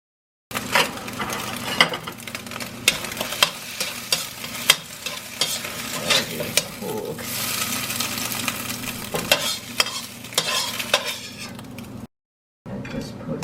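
Beaten egg stir-fried in a warm wok with olive oil, giving a steady close sizzle broken by repeated scraping and clinking strokes of the utensil, with a short silent gap near the end.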